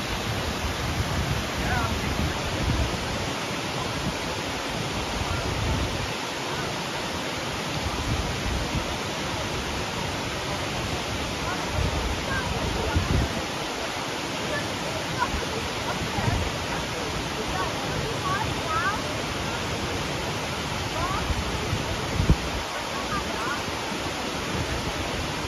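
Bridal Veil Falls, a waterfall on a hiking trail in Canada, gives a constant broadband roar of falling water that holds steady and fairly loud throughout, with faint voices here and there under it.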